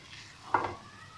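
One short stir of mutanjan, a sweet wedding rice dish, in a pot on a turned-off stove, giving a close, soft scraping swish that rises quickly and fades within about a second.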